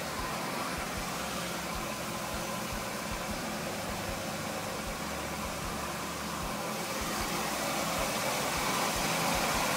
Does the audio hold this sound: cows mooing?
no